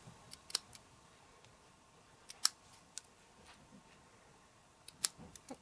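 Scissors snip a fishtail into the end of a paper ribbon on a handmade card. A few faint, crisp cuts come in small clusters, close up, with quiet gaps between them and no talking.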